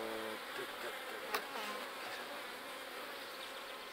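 Honeybee colony buzzing steadily during a hive inspection, a dense continuous hum of many bees close by with no voices over it.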